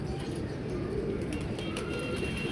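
A pigeon coos softly against a steady outdoor rumble, with no voices.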